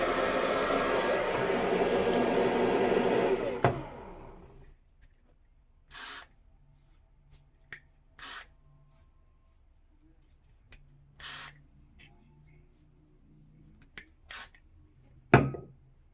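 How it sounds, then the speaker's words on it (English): A spray can hisses onto a bald cap in one steady, loud burst of about three and a half seconds, then stops, followed by a few brief soft rustles and handling noises close by. "Now I'm going to spray one more."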